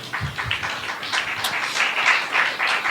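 A church congregation claps along during a sermon, a fairly loud burst of crowd clapping with uneven, pulsing bunches of claps lasting a few seconds.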